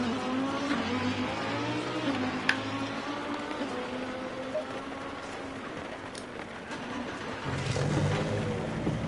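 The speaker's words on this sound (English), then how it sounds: "does the engine on this car sound so delicious? Especially those downshifts." A Lamborghini Supertrofeo race car engine drones steadily on a wet track in the rain, holding a continuous mid-level roar with pitch shifts suggesting downshifts, swelling louder near the end.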